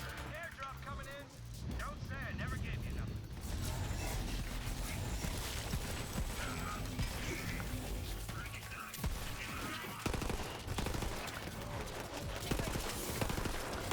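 Rapid gunfire from burst weapons in the video game Borderlands 3 crackles in dense volleys throughout, with a voice talking over the shooting.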